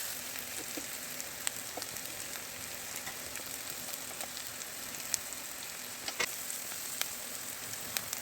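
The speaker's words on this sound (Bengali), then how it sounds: "এইদিকে কড়াইতে তেল দিয়ে দিয়েছি, এইবার পেঁয়াজ রসুনগুলো দিয়ে দেবো" Onion and garlic fry in oil in a wok, giving a faint, steady hiss with scattered small pops and crackles. It is quiet throughout and no voices are heard.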